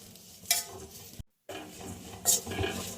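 Desiccated coconut roasting in ghee in a pan over a very low flame, with a soft, steady sizzle and scraping stirs, two louder scrapes, and a brief moment of complete silence midway.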